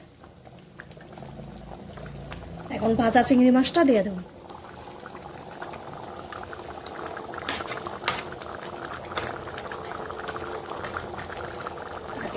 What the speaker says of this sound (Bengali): এই দেখো গ্রেভিটা একদম ফুটতে উঠছে